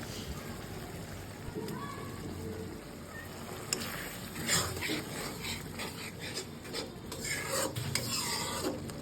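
Dried kachki fish stirs in hot spiced oil, giving a soft rasping scrape and low sizzle that builds with the spoon strokes, a faint voice running underneath.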